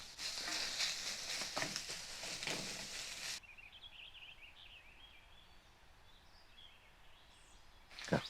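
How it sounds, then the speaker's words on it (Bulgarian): Onion sizzles loudly in a frying pan for a few seconds, a dense close hiss that cuts off abruptly, leaving quiet room noise with faint birdsong outside. "Лука трябва да ми се позапържи"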